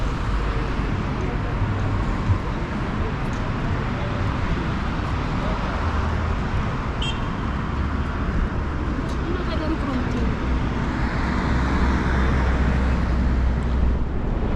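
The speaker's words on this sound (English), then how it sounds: "Look the flows of the traffic." Continuous street traffic on wide, busy roads in Addis Ababa, Ethiopia, forms a steady roar of passing vehicles with some wind buffeting the microphone.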